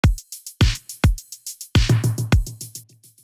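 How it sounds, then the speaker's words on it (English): A punchy drum loop of kicks and snares, with a snare echoing through an Ableton filter delay in quick repeating taps that trail off quieter toward the end. "I just duplicated that loop, and then I added a delayed snare on this one"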